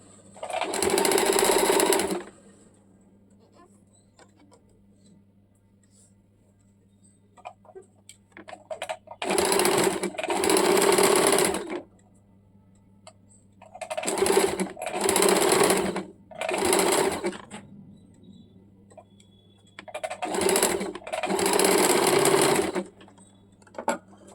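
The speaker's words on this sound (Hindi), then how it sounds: "इसमें हम लोग एक एक सिलाई और डाल देंगे मजबूती के लिए।" A sewing machine stitches a baby umbrella frock in several short loud bursts of rapid mechanical whirring, separated by quiet pauses with a low steady hum underneath.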